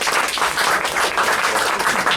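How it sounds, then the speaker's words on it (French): Audience applause for someone introduced at a French electoral list presentation, with dense, steady clapping from a crowd sustained loudly throughout. "Voilà, on peut l'applaudir."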